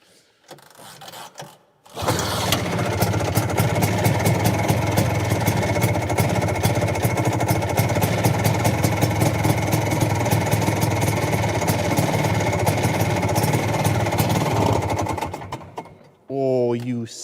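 A Ski-Doo Elan snowmobile with a two-stroke engine catches on a cold start after recoil pulls, then runs loud and close with a steady buzzing idle for about fourteen seconds before cutting out.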